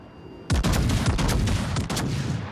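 Warship guns fire in a naval video game: a sudden loud, booming salvo that breaks into a long rolling rumble with further cracking reports.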